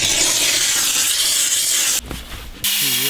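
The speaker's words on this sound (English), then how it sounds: "I'm going to steam it, wipe it, and then we should be good to go." A handheld steamer hisses steadily while cleaning leather car seats in a Range Rover, a continuous loud spray that cuts off abruptly, followed by a short quieter gap and a faint tonal hum.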